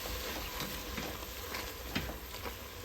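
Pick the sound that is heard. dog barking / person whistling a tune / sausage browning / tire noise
sausage browning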